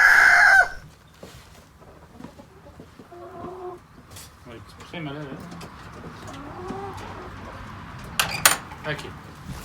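Chickens and a rooster in a henhouse on a cider farm: a loud crow at the start, then scattered clucks and bird calls at close range, with brief human voices here and there.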